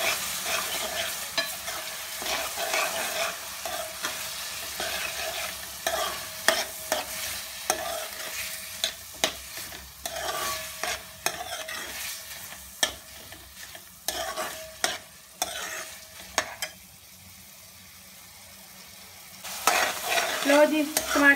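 Onions and tomatoes sizzle in a pan for Mumbai street-style pav bhaji, close and steady, with frequent scraping stirs of a spatula against the pan over the frying hiss.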